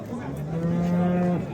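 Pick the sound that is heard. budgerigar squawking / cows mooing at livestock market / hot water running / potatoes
cows mooing at livestock market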